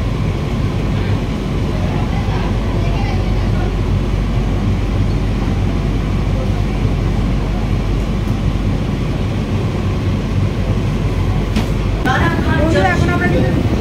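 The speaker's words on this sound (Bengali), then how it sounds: "আমাদের ট্রেন কিন্তু আস্তে আস্তে শিয়ালদা প্ল্যাটফর্ম ছেড়ে বেরিয়ে যাচ্ছে" An AC local train pulling slowly out of the platform at Sealdah station gives a continuous low rumble heard from inside the carriage, with murmuring voices and a brief higher sound near the end.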